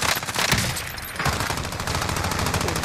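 Rapid automatic gunfire in Call of Duty Warzone, bursts of shots crackling in quick succession with a brief lull near the middle before the firing resumes, close and loud.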